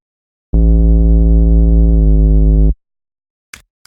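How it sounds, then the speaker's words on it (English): A sub bass preset from the SynthMaster One software synth plays one sustained, steady low tone for about two seconds, loud and alone, ending abruptly, followed by a brief faint noise. "So I used one of my sub presets here for this sub bass."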